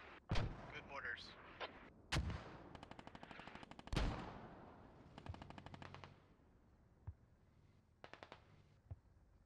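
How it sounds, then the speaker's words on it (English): Mortar and gunfire in the tactical shooter Squad: several loud, booming impacts and blasts spaced a couple of seconds apart, mixed with rapid bursts of machine-gun fire and sharp distant pops, without clear talk. "Can you hear the mortars coming?"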